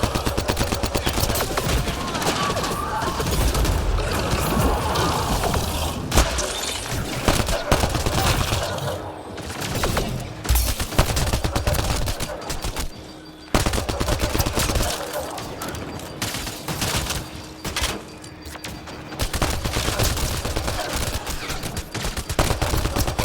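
Sustained gunfire from a Mass Effect Andromeda firefight, with dense bursts of automatic shots and sharp impacts that run almost continuously, loud and close, broken by brief lulls.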